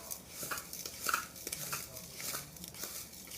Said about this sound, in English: then I'm going to just stir it all together